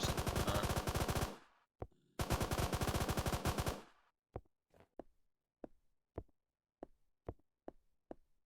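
Rapid automatic gunfire in the zombie shooter Deadzone Aeon, two loud sustained bursts followed by a string of single sharp shots spaced about half a second apart, with no voices.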